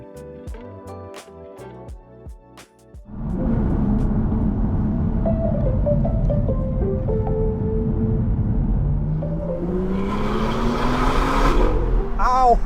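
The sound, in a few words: car engine revving on mountain road, possible exhaust leak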